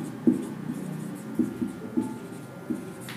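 Chalk or marker strokes on a board during a spectroscopy lecture, a few soft scratchy taps and short scrapes in an uneven rhythm, close and quiet in a hushed room.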